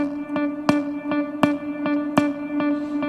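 A keyboard guitar voice with a reverb effect, sounding a sustained drone under a repeating pattern of bright plucked attacks, each followed by a smeared echoing tail. Even volume throughout, and no one speaks.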